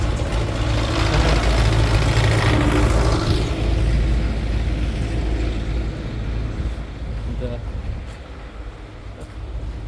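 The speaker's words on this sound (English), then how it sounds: "Oh, this is going to be a loud tractor here." A loud tractor engine rumbles and idles nearby, easing off a little toward the end, with a person talking over the noise.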